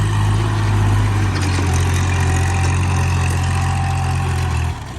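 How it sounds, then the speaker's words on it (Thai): Kubota L3008 tractor engine running close by, a loud, steady low diesel drone that holds constant and drops off slightly at the very end, with no voices. "อยู่กับเจ้าคูโบต้านะครับ L3008 นะครับ"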